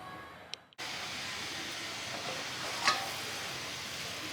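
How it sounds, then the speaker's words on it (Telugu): Fenugreek leaf stew (menthi kura pulusu) simmers in a pot with a soft, steady bubbling hiss that stays quiet and even, with one brief faint clink partway through. "చూసారు కదా, పులుసు ఒక 10 నిమిషాల పాటు ఇలా మరిగింది కదా"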